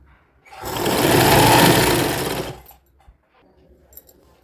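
A sewing machine stitches round an elastic waistband on a child's sharara outfit. It gives one loud, steady whir of about two seconds and then stops, leaving near silence with faint handling noises.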